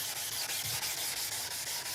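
Hand sanding a Vauxhall Corsa headlight: a steady, close, hissy abrasive rubbing in quick back-and-forth strokes, with nobody talking.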